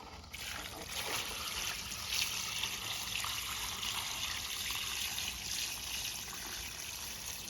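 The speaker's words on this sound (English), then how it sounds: "I'm going to go ahead and dump a bucket of water here." About two gallons of water poured from a bucket onto a river-rock mini French drain, a steady splashing trickle and gush that runs continuously at close range.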